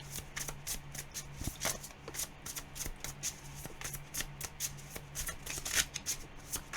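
Tarot cards being shuffled by hand, a quick run of crisp riffling snaps in an even, repeating rhythm, close and fairly quiet.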